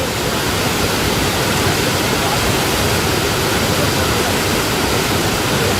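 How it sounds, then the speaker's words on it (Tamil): Athirapally waterfall, where the Chalakudy river plunges over the falls in Kerala, roars as a dense, continuous wash of broadband noise, loud and unbroken with no clear voices. "ஸோ அந்த அழகான அருவிங்க, ஐயோ எவ்வளோ பியூட்டிஃபுல்லாக இருக்குங்க"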